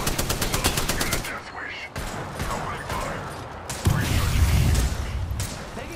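Rapid automatic gunfire in an Apex Legends match, loud and near, in several bursts with brief gaps, plus a heavy burst near the end; a faint voice may sit underneath.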